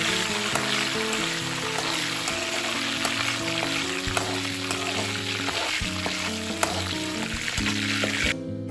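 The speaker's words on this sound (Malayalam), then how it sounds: "ഇതുകൂടി നമുക്ക് ഫ്രൈ ചെയ്തെടുക്കാം." Curry leaves and coriander leaves frying in oil in a pan as garnish for Kerala-style ghee rice, a loud, continuous crackling sizzle with scattered pops and stirring clinks, no talking.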